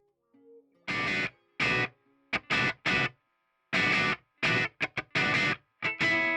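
An electric guitar plays with a distorted live tone in short, choppy chord stabs. About a dozen loud bursts are separated by brief silences over roughly six seconds, with no voice.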